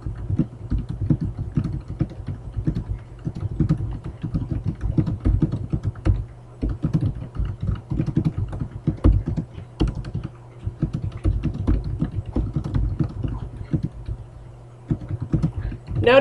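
Typing on a computer keyboard while entering text in a word processor, a dense run of close, rapid key clicks with brief pauses, continuing throughout.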